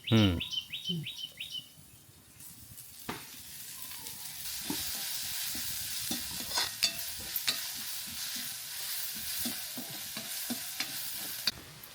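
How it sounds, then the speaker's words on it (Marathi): Onions frying in a little oil in a pan, a steady sizzle with stirring clatter and utensil knocks. Bird chirps sound faintly in the background and a loud clatter opens the sound. "आता उरलेलो हे कांदो आहे ना, तर त्याच्यात आपण थोडासा तेल टाकूचा."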